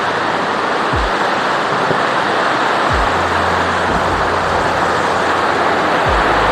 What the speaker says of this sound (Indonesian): Sekarang mungkin lagi musim hujan ya, jadi arusnya deras.